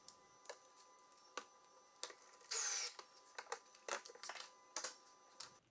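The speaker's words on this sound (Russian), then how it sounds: "после точной настройки закрепляю саморезами" A power tool drives self-tapping screws to fix a furniture guide rail, heard as a quiet series of sharp ticks and clicks with one brief louder whirring burst near the middle.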